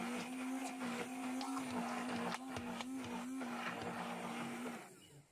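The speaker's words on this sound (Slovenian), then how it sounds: "Zmes miksamo, dokler ne postane gladka in sijoča." A kitchen blender whirs steadily as it purees a chestnut jam mixture with rum until smooth, a loud, even motor hum that runs without pause before cutting off at the end.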